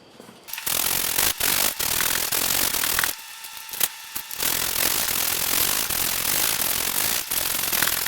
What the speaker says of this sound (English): Getting kind of tired of sanding by hand